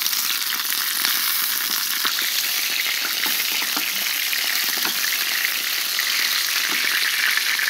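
Chicken and onion frying in a pan, a dense continuous crackling sizzle with scattered sharp pops and occasional stirring, close and steady, with no voices.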